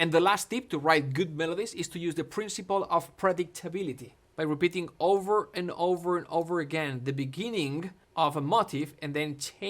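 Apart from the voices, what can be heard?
None of the usual background noises is heard.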